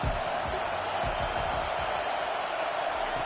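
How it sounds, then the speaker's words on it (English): A college football stadium crowd roars as noise builds behind the defense on third down, a dense, steady wall of sound with no clear peaks. "Decibels rising as the crowd gets behind this defense on 3rd down."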